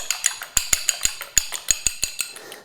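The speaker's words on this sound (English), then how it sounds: "Just give that a quick whisk up. Just do it with a fork." A fork whisking egg white in a bowl for an apple pie glaze, a quick run of about a dozen light, bright metallic clinks against the dish, close and alone.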